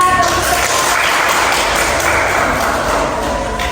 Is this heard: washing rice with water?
no